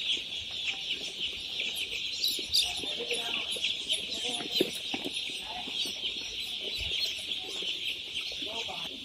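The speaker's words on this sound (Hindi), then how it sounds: "ये हैं दोस्तों वेंकी के पेरेंट चिक्स" Venky parent chicks in a poultry brooder with battery cages cheep constantly in a dense, high-pitched chorus, with overlapping chirps and occasional louder peeps throughout.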